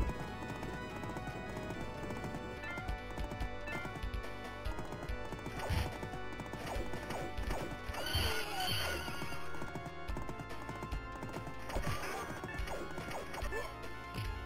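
Galloping hooves drum steadily under loud clashing and whacking sounds in the 1991 arcade game Knights of the Round, with horse whinnies breaking through now and then.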